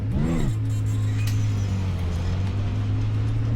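Engine of a virtual car driven around Landmark Park in the iRacing sim game on PSVR, a brief rising rev at the start settling into a steady loud drone that holds alone for a few seconds.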